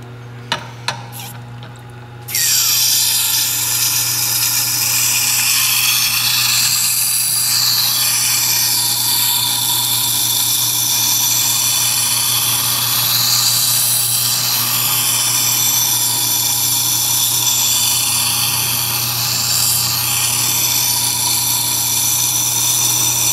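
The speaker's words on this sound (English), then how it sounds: "This blade we're going to be grinding at about 19 degrees." Grinding the bevel of a knife blade at about 19 degrees on a powered grinder, with a few sharp taps, then a loud, steady, continuous abrasive hiss that runs close and unbroken, with no talking.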